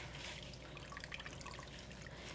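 Wet fabric lifted out of dye water drips and trickles back into the liquid, soft scattered drops and a faint running splash, quiet and close with no talking.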